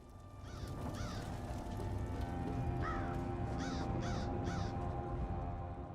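A crow caws in The Elder Scrolls Online, giving a series of rasping calls, first two, then several in quick succession, over a constant low game ambience.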